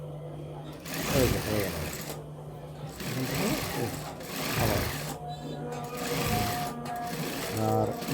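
A sewing machine stitches a salwar in bursts of rapid, loud mechanical whirring that start and stop several times, with someone speaking briefly between the runs.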